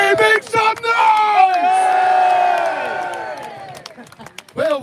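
A protest crowd in Braintree, Essex, roars and cheers in a loud sustained swell of many voices, with a few sharp shouts at the start and the cheering fading out toward the end.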